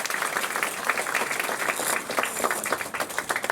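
A live magic-show audience applauds a volunteer as she comes to the front: steady, dense clapping from a crowd at moderate volume, with no voices over it.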